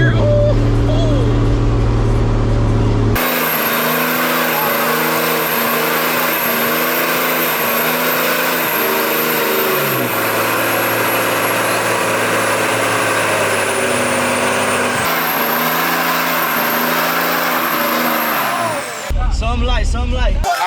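A custom 6x6 truck with a Cummins diesel engine revs loud and close, its sustained roar holding steady pitch with shifts in tone, sitting in a noisy crowd where people talk at the start and end.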